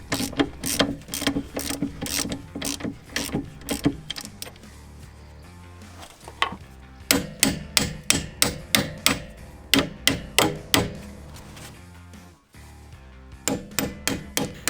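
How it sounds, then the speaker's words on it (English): Front suspension work on a lifted Subaru, with strut bolts being loosened and removed: a steady series of sharp metallic ratchet clicks and knocks comes close and loud in repeated bursts, with brief pauses between them and no talking. "Untighten the lower bolts and remove the upper strut bolt."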